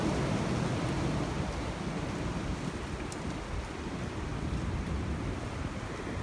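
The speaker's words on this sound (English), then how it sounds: "has been quite a bad storm." Steady roar of strong wind and crashing surf during Storm Darragh, loud and continuous with broadband rumble, no voices.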